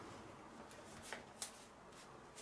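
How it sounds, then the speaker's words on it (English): Playing cards shuffled during a tabletop card game demo, a quiet soft riffle texture with a couple of brief sharper snaps near the middle, low and close with no talking. "Shuffle the deck if you searched it."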